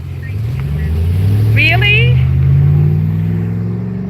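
Cars roll past on a street while arriving at a car show, one engine rising in a steady rumble close by as a person briefly speaks.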